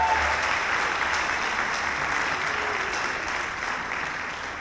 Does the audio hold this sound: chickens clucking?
no